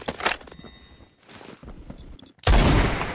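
Rapid gunfire from the Roblox shooter Phantom Forces, a quick burst at the start, then quieter clatter, ending in a loud sustained stream of fast shots.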